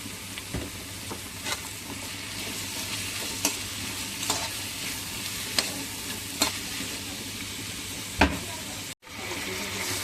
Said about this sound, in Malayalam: ഉപ്പും കൂടെ ചേർത്ത് നന്നായിട്ട് നമുക്ക് വഴറ്റിയെടുക്കാം.